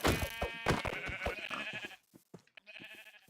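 Minecraft sheep bleat in a wavering, nasal cry that fades out, followed by quieter scattered bleats and soft clicks, with no talking.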